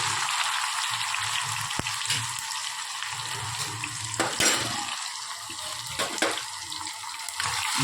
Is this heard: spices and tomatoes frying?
yes